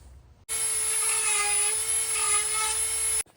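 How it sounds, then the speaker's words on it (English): A Dremel rotary tool fitted with a cut-saw burr cleans up joints on a carved wooden tray, a high steady whine that starts abruptly, holds for about three seconds, then cuts off. "I'm gonna clean up these joints with this cut-saw burr in my Dremel."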